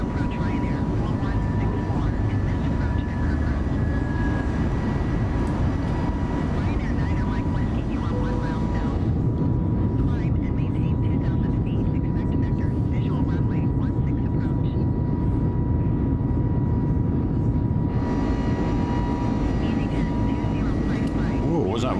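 Airliner climbing out after takeoff from Corfu in Microsoft Flight Simulator 2020, a loud, steady engine roar with a broad whooshing wash and faint tonal whine, continuous throughout.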